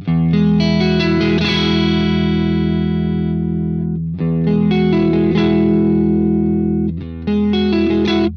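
Electric guitar runs through a Friedman BE-100 amp plugin on its brightest setting, ringing sustained chords that decay and restrike three times, bright and loud with a touch of reverb, alone.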